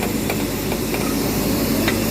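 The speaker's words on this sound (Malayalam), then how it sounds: "ഈ എഞ്ചിനാണ് ആവി എഞ്ചിൻ" A steam locomotive of the Mettupalayam-Ooty toy train hisses steadily up close, loud and continuous, broken by a few sharp metallic knocks.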